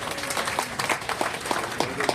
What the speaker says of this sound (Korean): 그럼 박수로 맞아주세요